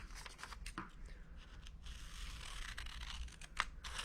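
Scissors cut paper close by in a quiet room at a library storytime, with a series of faint, irregular snipping and rustling sounds.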